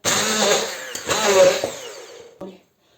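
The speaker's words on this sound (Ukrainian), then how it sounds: "Ми цю квасолю розіб'ємо блендером погружним." Immersion blender puréeing cooked beans with a little bean broth for meatless patties, a loud close whirring motor that bogs and surges in two main bursts before cutting off near the end.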